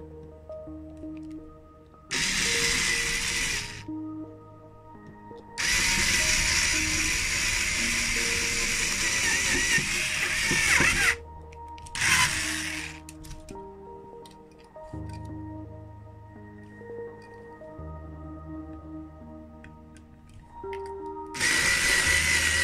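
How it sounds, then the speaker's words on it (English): Several bursts of a power drill whining into a 1:64 die-cast Porsche 944 Turbo model car, each lasting a few seconds, separated by quieter pauses, with background music throughout. "Let's get to drilling."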